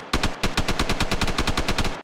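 Rapid bursts of automatic gunfire in an online shooter match, evenly spaced loud shots rattling steadily for about two seconds with no talk over them.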